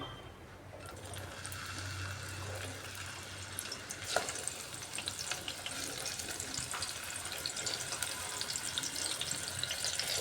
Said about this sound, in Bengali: নুন হলুদ মাখিয়ে রাখা চাল কুমড়াগুলা এই তেলের মধ্যে আমি ভেজে নিচ্ছি